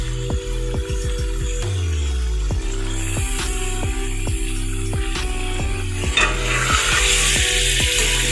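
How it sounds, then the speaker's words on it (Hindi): Meat frying and stirring in a spiced masala for white chicken pulao, a steady loud sizzle with repeated scraping and clanking of a spoon against the pot, no talking. "अब हमने इसमें गोश्त डाल के उसको भी अच्छे तरीके से भून लेना है।"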